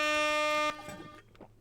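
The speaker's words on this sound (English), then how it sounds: "I'm gonna chill in the air horns" An air horn sound effect blares steadily for about two thirds of a second and then cuts off sharply. It is loud and close, played during a livestream chat about Fortnite games.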